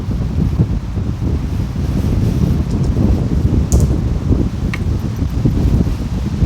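Steady wind gusts around a hammock campsite, buffeting the microphone with a constant low roar and rustling, loud and unbroken, with a couple of faint clicks and no voices.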